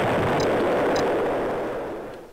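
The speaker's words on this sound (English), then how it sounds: "Oh no, it's getting destroyed by the planet." A ship is destroyed by nukes in the space game EV Nova, giving a loud, sustained explosive roar that stays full for about two seconds and then slowly fades, heard alone without talk.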